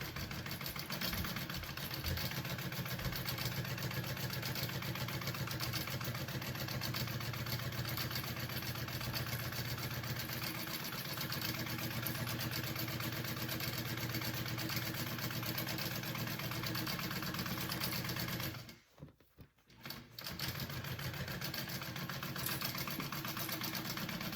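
A sewing machine bastes the main panel of a circle bag. Its motor gives a steady, mid-level hum for most of the stretch, stops briefly near the end, then runs again, with no voices.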